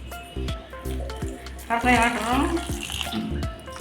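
Water is poured over prawn shells being washed for a ridge gourd and prawn curry, splashing and rushing in a short burst in the middle, while a person speaks around it amid kitchen clatter.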